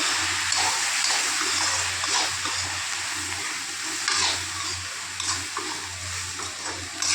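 Turmeric, chili and coriander powders fry in hot oil and are stirred, a dense close sizzle with scraping stir strokes throughout.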